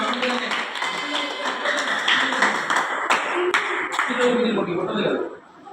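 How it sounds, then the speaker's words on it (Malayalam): A crowd of children at a church Vacation Bible School claps in a dense patter of applause mixed with shouting and talk, fading out near the end. "കൈയടിച്ച് പ്രോത്സാഹിപ്പിക്കുന്നു."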